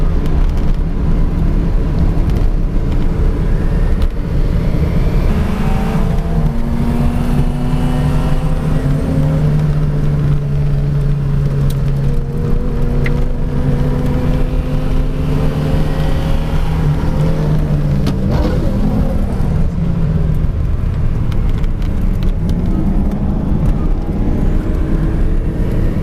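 A GTC racing car's engine drones continuously at high revs, its pitch rising and falling as it accelerates and shifts, loud and close throughout.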